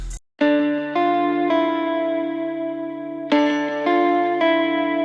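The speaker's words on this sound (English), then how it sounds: "on the guitar we have just some delay" Sustained electric guitar chords ring out with echoing repeats trailing each strum, a few chord changes spaced over several seconds, clear and up close.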